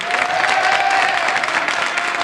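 Studio audience applauding a guest's entrance on a French television show, a steady dense wash of clapping that stays loud and even throughout, with a faint tonal hum running beneath it.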